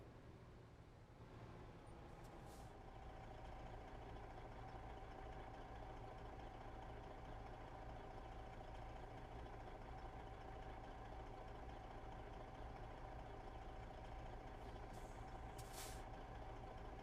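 Kenworth K100e cab-over truck in American Truck Simulator idling with a steady low engine rumble, punctuated by short sharp air brake hisses near the start and again near the end, close and continuous with no talk.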